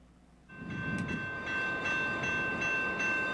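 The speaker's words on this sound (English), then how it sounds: "Trains and transport trucks traveling through the city are a common sight." A train moves through a city, rising from quiet into a loud, steady rolling rumble with a sustained tonal whine or horn-like hum and faint rhythmic clatter.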